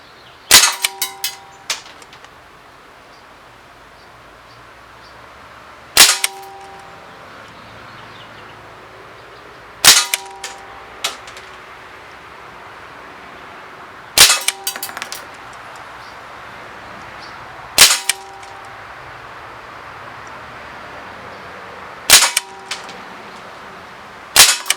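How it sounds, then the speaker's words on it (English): An Umarex Walther SG9000 CO2 BB shotgun fires at a target, eight crisp snapping shots spaced a few seconds apart, each with a short metallic ring and BB impact ticks, over steady low background hum. "I'm going to put 8 rounds into this target and see how we do"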